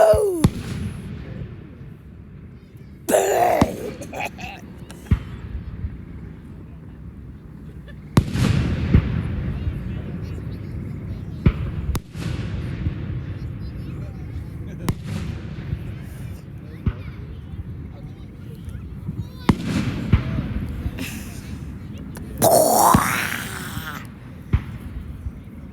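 Fireworks going off outdoors in 2024, a series of loud booms and crackling bursts spread irregularly across the stretch, with a rumbling tail after each blast and a rising whistle near the end, while people talk in between.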